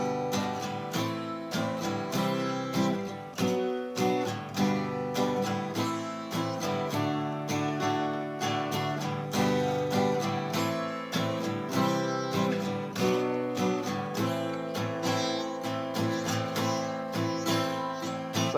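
Acoustic-style guitar strumming the chorus of a song at full speed, a steady down-down-up skip pattern with a bright, even rhythm, played alone throughout.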